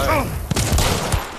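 Fire round gunshot in the game Hunt: Showdown, a single sharp, loud blast with a booming tail, followed by a couple of quieter reports close by.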